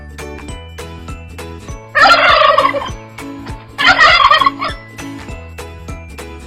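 A turkey gobbles twice in loud rapid bursts, each about a second long, over a light plinking children's melody.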